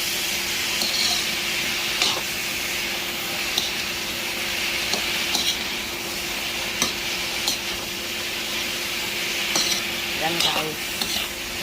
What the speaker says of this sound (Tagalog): Ginisa ko sa bawang luya at saka bawang siyempre.